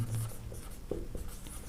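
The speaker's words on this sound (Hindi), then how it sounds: "तो इसको हम लिखेंगे" Quiet scratchy strokes of writing on a board in a coaching class, a few short marks spaced apart over a low room hum.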